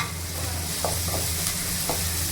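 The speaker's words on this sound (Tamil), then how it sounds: "கொஞ்சமாக இஞ்சி பூண்டு பேஸ்ட் போட்டு வதக்கியிருக்கேன்." Ginger garlic paste sautés in a pan with a close, loud, continuous sizzle over a low steady hum, broken by a few quick scraping stirs.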